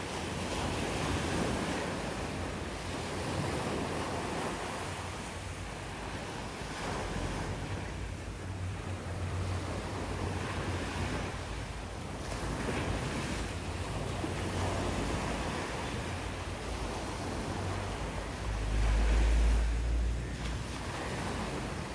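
Sea waves break steadily on Elliot's Beach in Besant Nagar in the early morning, a broad continuous wash of surf with wind buffeting the microphone, moderately loud and with no voices.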